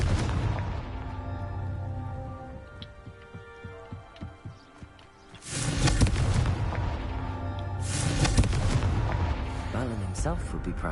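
Confringo blasting spell explodes in the Hogwarts Legacy game, with booming, crackling bursts and rumbling debris surging loud in two waves after a quieter rattling stretch, alongside game voices.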